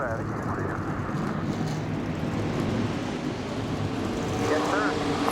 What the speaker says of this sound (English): 42 engines firing up and rolling off the starting grid